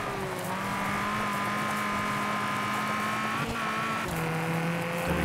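A Ford Fiesta R2 rally car engine in the WRC video game drones steadily at high revs, with a sudden pitch jump after a double downshift and a brief tire squeal under the continuous engine note.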